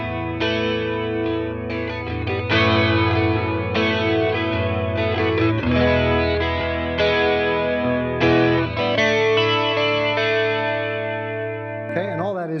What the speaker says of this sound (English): the crunch amplifier with a little bit of chorus and a little bit of reverb